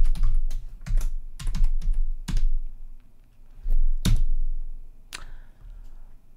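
Keys clacking on a computer keyboard as a password is typed to change the default password on a Raspberry Pi 5, with irregular bursts of several keystrokes and short pauses between them, close and clear, with no talking.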